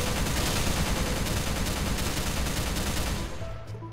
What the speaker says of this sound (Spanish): puedo dejar presionado el botón izquierdo del mouse y funciona como una ametralladora.